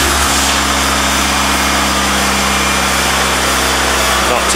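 A project car's engine runs inside a garage, a loud, steady, close idle with a constant low drone and broadband mechanical hiss, unbroken throughout.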